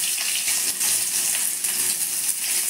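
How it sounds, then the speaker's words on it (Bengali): Onion frying in hot oil with cloves and cumin gives a bright, dense, continuous sizzle with faint crackles, close and steady throughout. "পেঁয়াজটা আমি অল্প করে ভেজে নিচ্ছি"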